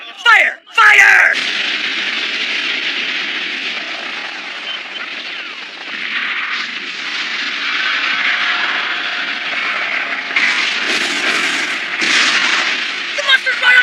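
Artillery gunfire in an anime battle, a loud sharp blast at the start followed by a sustained roaring wash of noise with further surging bursts, with voices shouting amid it.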